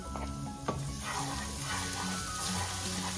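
Beef sautéing with garlic in a pan, a continuous low sizzle with a single sharp clink near the start and faint tonal background hum, no voices.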